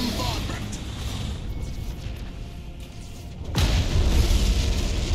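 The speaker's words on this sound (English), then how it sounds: "We can scuttle that thing. It'll cause a huge explosion." A scuttled ship explodes in a Battlefleet Gothic Armada 2 space battle, a sudden deep boom that breaks through the ongoing rumble and effects and then hangs on as a heavy roar.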